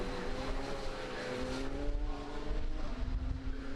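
A pack of Radical race cars pours into the chicane at Donington Park, several engines droning and shifting pitch together as they brake and accelerate through the turn, heard at a moderate distance.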